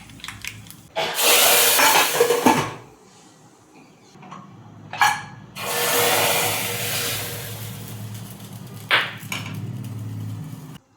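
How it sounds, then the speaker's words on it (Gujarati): Loud sizzling crackle of spices hitting hot oil in two long bursts while tempering dal, separated by quieter clinks and kitchen clatter. "તો તેલ ગરમ થઈ ગયું છે તો હવે આપણે વઘાર કરશું"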